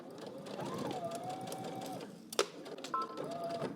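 A sewing machine stitches a McCall's M8341 dress, its motor humming steadily up close with a whirring tone that rises and holds, broken near the end by a sharp knock and brief shifts in pitch.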